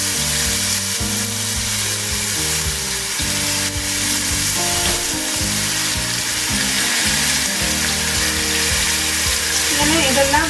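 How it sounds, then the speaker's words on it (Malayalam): Marinated chicken tikka pieces sizzle and fry steadily in a hot pan, a continuous loud crackle with occasional clinks of the pieces being laid in, no talking. "നമ്മുടെ മാരിനേറ്റ് ചെയ്ത് വെച്ച് അരമണിക്കൂർ വെച്ചിരുന്ന ചിക്കനാണിത്. ഇത് ഞാൻ ഇതിലേക്ക് ഒന്ന് ഇട്ട് കൊടുക്കുവാണ്."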